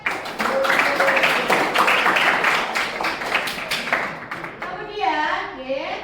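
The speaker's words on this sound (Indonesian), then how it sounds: "Kasihkan aplaus buat yang piket" A classroom of students claps for classmates on cleaning duty, a loud burst of many hands lasting about four seconds. A voice then speaks as the clapping fades.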